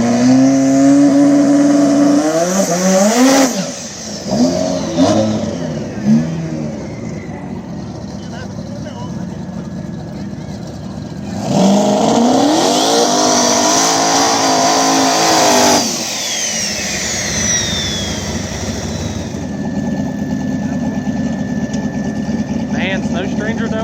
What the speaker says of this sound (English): Blue Fox body, single turbo Mustang. Taking on the all-wheel drive Eclipse